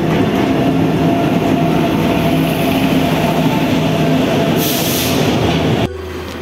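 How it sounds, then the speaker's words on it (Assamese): A passenger train rolls in at a station platform, loud and near, with a dense steady rumble and rail clatter, then a hissing burst before the noise drops sharply. "এয়া আমাৰ ট্ৰেইন আহি পালে"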